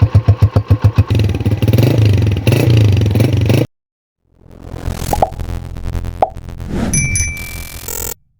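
Honda CG125 motorcycle engine running near the microphone, starting with rapid rhythmic thumps and settling into a steady idle chug, then after a short silence a second stretch of clattering engine noise with a few sharp knocks.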